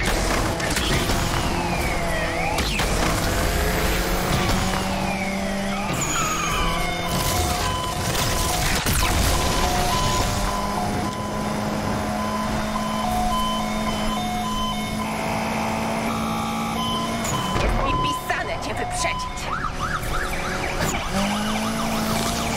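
Street traffic in the racing game Need for Speed Unbound fills the scene with a steady roar of car and truck engines, a wailing emergency siren running through it, loud and continuous throughout.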